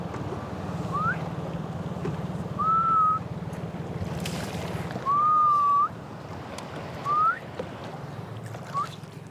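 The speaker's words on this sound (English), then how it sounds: "This whistling sound is produced by a special breathing technique that the ama use." A series of short rising breathing whistles from Japanese ama divers at Ise-Shima repeats at intervals over a steady rumble of water and wind, each whistle brief and clear.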